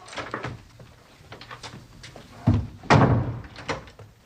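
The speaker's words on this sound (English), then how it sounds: "Now, go on and shut the door." A door is shut indoors at night, with a couple of heavy thuds standing out among smaller knocks and shuffling, fairly close and without talk.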